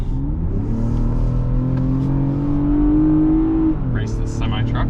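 A 2022 Lexus RX 350 accelerates hard alongside a semi-truck, its engine note climbing steadily in a rising whine before easing off, with brief voices near the end.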